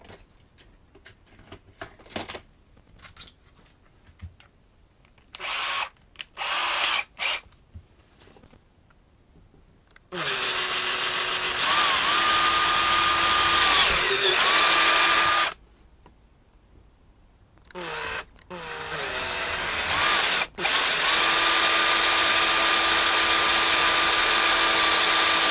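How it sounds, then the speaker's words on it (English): A hand-held power drill with a 10mm bit bores into a guitar body during a kitchen-built Strat project, whirring loudly in two long runs after a stretch of clicks and handling noise, with no talking. "Now ideally I'll be using a drill press so I'll have a bit more control over the actual drill."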